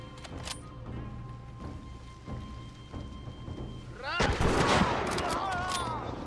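A machine gun fires in Medal of Honor: Rising Sun: scattered distant shots at first, then a loud, dense burst of rapid fire that keeps rattling, with someone speaking briefly.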